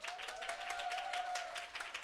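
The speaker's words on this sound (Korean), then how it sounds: "박수 한번 쳐주세요." An audience at a live business presentation seminar applauds, a brief, faint patter of many hands clapping with a soft tone running underneath.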